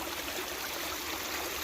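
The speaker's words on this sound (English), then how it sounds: "just want to show you our wet weather stream that cuts in between both of our ridges" Steady rushing of a wet-weather stream flowing between two ridges after heavy rain, a continuous close trickle and babble of running water heard alone with no voices.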